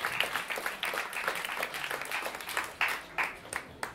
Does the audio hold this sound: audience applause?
yes